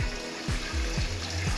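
Black-eyed bean cooking water being poured into a pressure cooker for a kidney bean and lobia curry, a close steady splashing pour with gurgling, heard without talk.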